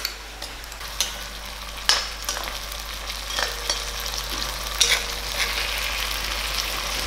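Shallots fry in hot oil with crushed ginger and garlic, a continuous close sizzle broken by occasional crackling pops and a few stirring scrapes.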